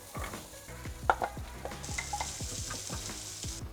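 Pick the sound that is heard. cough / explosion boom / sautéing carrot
sautéing carrot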